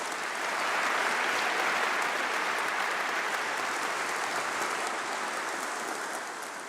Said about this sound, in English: I think another round of applause for Hugh Bonsey.